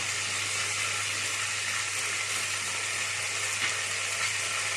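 Fenugreek seeds sizzling in hot oil in a pan for prawn moly, a steady broadband frying hiss under a low constant hum, fairly quiet and unbroken throughout.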